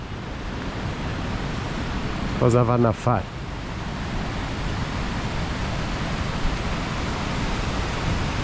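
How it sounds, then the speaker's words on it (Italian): Waterfalls and cascading water along the Transfăgărașan mountain road make a steady, loud broadband rush throughout, with a brief burst of speech partway through. "Ci sono delle cascate bellissime."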